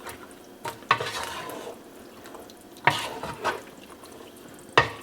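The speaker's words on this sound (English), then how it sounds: "Just give them a stir." BBQ pork and beans stirred in a pot, three separate wet scraping sloshes spaced about two seconds apart, close and fairly quiet, with no talking.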